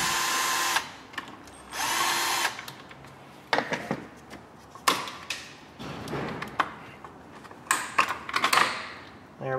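A power tool with a 7mm socket spins out bolts on the throttle body cover of a 2000–2008 Ford Focus, in short whirring bursts separated by taps and clunks of parts being handled nearby.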